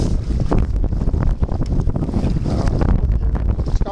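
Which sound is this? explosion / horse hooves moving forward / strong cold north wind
strong cold north wind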